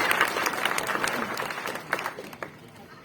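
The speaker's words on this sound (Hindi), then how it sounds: "उनके लिए एक बार जोरदार तालियां।" Enthusiastic audience applause at a kavi sammelan poetry gathering, many hands clapping at moderate volume and gradually thinning toward the end, with a few louder individual claps standing out.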